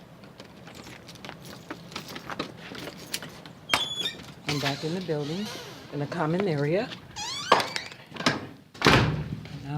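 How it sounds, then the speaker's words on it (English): A door in an apartment building's common area is unlocked with a key, opened and shut, giving a light metallic jingle and click followed by heavy wooden thunks, while someone talks throughout. "So now I'm going to open the door"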